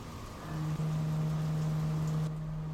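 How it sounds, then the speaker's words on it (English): Rain in the X-Plane 11 flight simulator, a steady hissing downpour with a low engine-like hum beneath it, continuous and fairly even before it cuts off abruptly near the end. "See the rain on that side."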